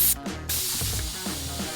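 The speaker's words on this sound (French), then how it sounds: "On va dégonfler les pneus, on va serrer et après on va regonfler." Air hissing steadily out of a mountain bike tyre as it deflates, a continuous close spray-like rush lasting under two seconds, with faint background noise and no talking.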